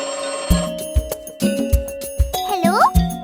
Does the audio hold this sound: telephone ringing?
yes